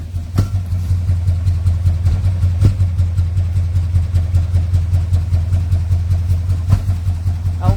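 A 1970 Dodge Charger engine rumbles loud and steady in deep pulses while driving, with a few sharp clicks or knocks breaking through the constant drone.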